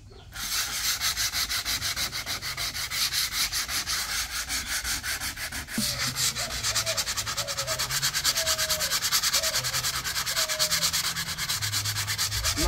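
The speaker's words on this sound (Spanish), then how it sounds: "mira, lijando, está ahí tu tío para pintar la mesa" Steady hand sanding of a wooden table ahead of painting during home remodeling, a close, continuous rasping scrub in rhythmic back-and-forth strokes, with faint bird chirps in the background.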